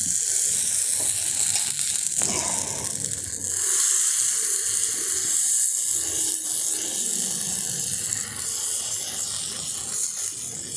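Batter for lau chok pitha goes into a hot oiled pan and sizzles loudly and continuously at close range, a dense frying hiss with small crackles.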